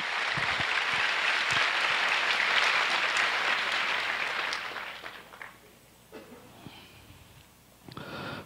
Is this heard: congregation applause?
yes